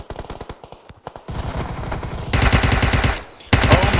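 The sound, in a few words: gunfire in video game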